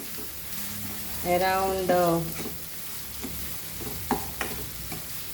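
Goan potato bhaji sizzles steadily in a pan on a medium flame while a spoon stirs and scrapes it now and then; someone speaks briefly over the frying.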